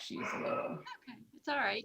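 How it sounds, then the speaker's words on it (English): A dog at a code compliance hearing gives a short yipping bark, then whimpers and yelps briefly, mixed with a person speaking soothingly nearby. "I'm sorry for the dog."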